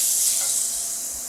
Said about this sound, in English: We get a little sizzle, right?